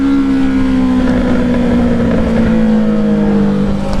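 A Honda CBR650R motorcycle with a Black Widow exhaust revs hard during a wheelie, giving a loud, close engine drone whose pitch slides gradually downward, with no voices.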